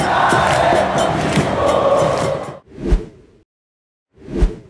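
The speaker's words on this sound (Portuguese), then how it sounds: "quem deu um show foi a torcida do América de Natal" América de Natal football fans at Arena das Dunas roar as a dense, loud crowd for a few seconds. The noise then breaks off into two separate booming whooshes with silence between them.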